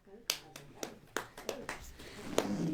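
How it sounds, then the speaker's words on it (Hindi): Sparse, sharp hand claps from a church congregation at a sermon gathering, several distinct claps spaced irregularly, fairly close, with speech underneath. "ताली बजाओ"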